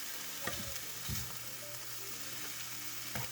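Ground turkey sizzles and fries in a hot, somewhat dry pan, a continuous crackling hiss with occasional stirring scrapes and clicks, close and without any talking.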